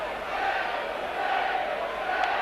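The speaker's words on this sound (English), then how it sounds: "Getting some stick from the Wigan crowd this afternoon" Wigan rugby league crowd jeering a Warrington player, a steady distant roar of many voices across a stadium, continuous and even throughout.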